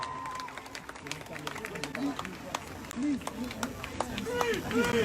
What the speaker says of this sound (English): Can we please give a big round of applause to Nicole, please, from Manchester Jewish Action for Palestine